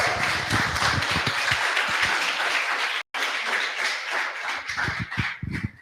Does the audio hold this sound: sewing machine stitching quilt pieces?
no